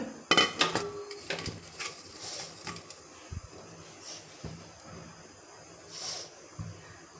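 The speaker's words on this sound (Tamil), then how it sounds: "இந்த 2 கப்பு வெல்லத்தை இதில் போடுறேன்." Solid jaggery, about two cups, tipped into a kadai, giving a scatter of sharp clinks and knocks against the metal pan, fairly close and quiet, with no talking.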